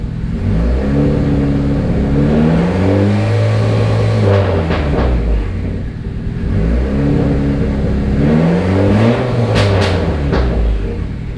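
A turbocharged Honda car engine revs repeatedly, pitch climbing and dropping in surges, loud and close, with a whooshing intake whir and no speech.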